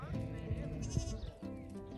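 Sheep bleat on a farm, a close, wavering cry that repeats in quick succession over a brief stretch.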